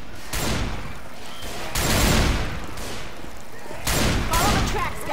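Heavy gunfire in a video game erupts in several dense bursts with booming blasts, as shots are fired at a thrown propane tank. The sound is loud and close, with steady noise between the bursts.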